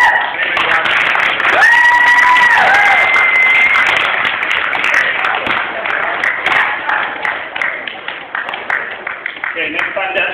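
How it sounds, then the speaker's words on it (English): An audience at a juggling demonstration breaks into steady, loud applause and cheering that fills the room and slowly thins out, with a voice speaking over it. "you got to clap now"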